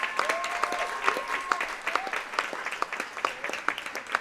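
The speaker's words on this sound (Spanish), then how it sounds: "Un aplauso para ella." An audience at a church cantata concert claps for several seconds, a dense patter of many hands with a few voices mixed in.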